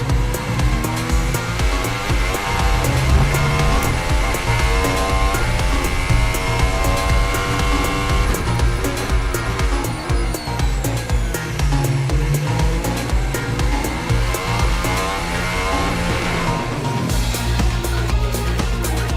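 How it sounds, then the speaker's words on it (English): Formula 1 cars, a Ferrari and a McLaren, race wheel to wheel in 2021, their high-pitched engines rising and falling loudly and continuously as they gear through a close battle. "Carlos Sainz and Daniel Ricciardo tangle the Ferrari and the McLaren, almost touching wheels, with Lando Norris just behind."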